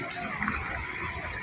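Water gushing from a broken water line, a steady, loud, close rushing roar that does not let up, with no talk over it.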